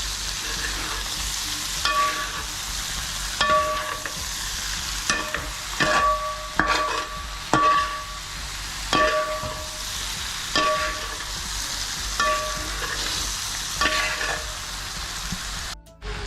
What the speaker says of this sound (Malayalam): ഇവിടെ ഒന്ന് ചേർത്ത് കൊടുത്തിട്ട് നന്നായിട്ട് ഇളക്കി കൊടുക്കാം